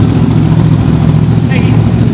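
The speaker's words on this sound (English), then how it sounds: "That sounds like an R1 right there." A Yamaha R1 motorcycle engine runs steadily at a dragstrip, a loud continuous low drone with no clear change in pitch.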